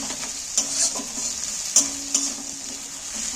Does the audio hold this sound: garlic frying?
yes